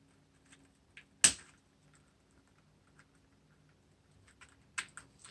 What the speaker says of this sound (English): we're just going to go through and cut these zip ties off